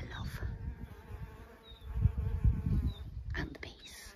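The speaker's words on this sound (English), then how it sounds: "And the bees." Bees buzz around a terraced vegetable garden with kohlrabi and carrot rows, a continuous close drone with individual insects passing near, over faint outdoor background.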